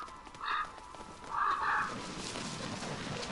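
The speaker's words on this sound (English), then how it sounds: "Crows are less nice." Crows cawing in the video game A Plague Tale, two or three harsh calls in quick succession over a faint outdoor ambience.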